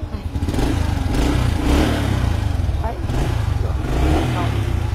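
A motorbike engine idles steadily up close, a low rumbling throb that swells slightly a few times, with faint voices in the background.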